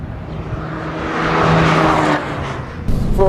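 A 2013 Fiat 500 Abarth Cabrio, 160 horsepower, pushes through a hot lap on a race track, its engine droning loud and steady and rising as it clips an apex, with a brief tire squeal and a sharp shift near the end.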